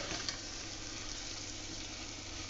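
Soya chunks fry in a pan with a steady, soft, even hiss of oil that runs without pause at low level, with no voices over it.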